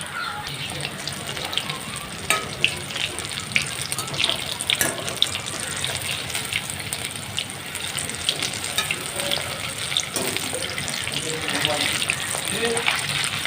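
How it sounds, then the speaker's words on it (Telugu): Chicken pakoda deep-fries in oil in a home kitchen with a steady bubbling sizzle, interrupted by occasional clinks and stirring noises, and a faint voice is present. "ఇలా 2 వైపులా మనము తిప్పుకుంటూ డీప్ ఫ్రై చేసుకోవాలి."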